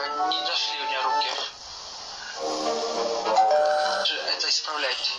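A cartoon-game doorbell chimes for a parcel delivery, its bright tones mixed with background music and sound effects.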